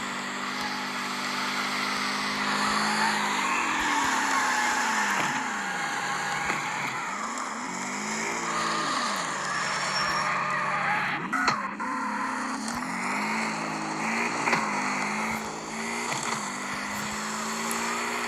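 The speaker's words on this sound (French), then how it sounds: "on roule dans le jeu de Carrick Street, mais sur l'eau, donc de la glace" A car in the CarX Street racing game drives over ice, its engine droning continuously with rising and falling revs and a steady whine for the full length, no voices.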